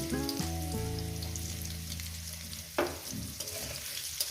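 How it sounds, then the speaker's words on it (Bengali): Potatoes frying in a pan for a rohu fish and kochur loti dish, a steady near sizzle with a brief tonal hum at the start and one sharp stirring clack. "আলুটাকে আমি দু মিনিট ভেজে নেব"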